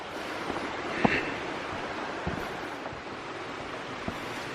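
Loud waterfall roaring somewhere out of sight behind thick foliage on a wet forest trail, a steady broadband rush with a few soft knocks and wind buffets on the microphone.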